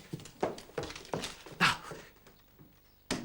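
A dog named Jumble whimpers and pants in short bursts, a few yips rising over a quiet room with faint background voices.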